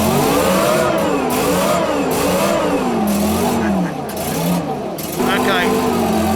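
Armoured vehicle engine revved hard several times, pitch rising and falling in repeated surges, loud and close, dropping briefly before settling into a steadier drone.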